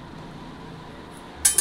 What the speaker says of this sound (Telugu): మూత అయితే పెట్టుకుంటున్నాను.